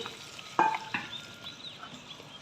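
Tempering being stirred into a rice dish in a pan, soft scraping and clinks of a spoon over a faint background sizzle, with a couple of sharper knocks.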